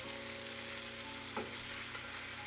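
Thin chicken tenders frying in a pan, a steady loud sizzle with one brief scrape or stir partway through, and no talking.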